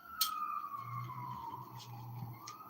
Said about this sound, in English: I know y'all can hear them sirens.